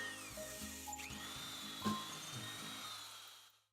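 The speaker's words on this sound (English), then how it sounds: "Clamp the jig to the inner face of the leg and drill the holes to the proper depth." A power drill whirs steadily, boring holes through a clamped jig into a wooden table leg for several seconds, with a brief louder bite in the middle before the motor spins down and stops.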